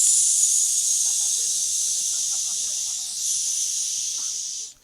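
A human voice imitates a pressure cooker whistle, giving a long, loud, steady hiss that holds for several seconds and then cuts off abruptly at the end.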